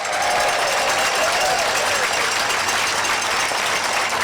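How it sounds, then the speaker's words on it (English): Rally crowd outdoors at a May Day rally in Palm Springs, applauding and cheering in a dense, steady wash of clapping and crowd noise throughout. "Let's give all of our workers a big round of applause."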